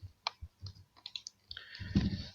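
Code being typed on a computer keyboard, heard as scattered clicks and taps in short irregular bursts, ending in a louder, busier cluster of keystrokes, close and fairly quiet.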